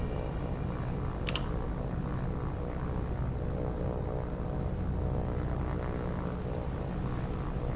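Steady propeller drone of fighter planes in the naval combat game War on the Sea, a continuous low aircraft-engine hum throughout with a couple of faint clicks, no talk.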